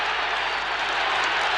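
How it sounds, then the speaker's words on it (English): A rugby stadium crowd roars and applauds after a South African Springboks try in a 1974 test match. The broad, dense wash of clapping and cheering is sustained and loud throughout. "The crowd go wild"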